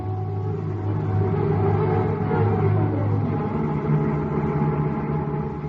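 Radio drama effect of a car heading out onto the highway, a steady close engine rumble and drone that holds level throughout with no voices.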